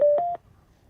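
A Milwaukee M18 AM/FM jobsite radio powers on with a short, clear electronic tone pattern lasting about a third of a second, then falls quiet.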